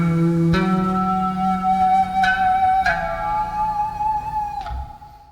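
A bass note from a whammy-bar bass with a Sustainiac sustainer in two-octave harmonic mode rings out with a high, flute-like harmonic two octaves up, sustaining and sliding slightly in pitch before fading at the end.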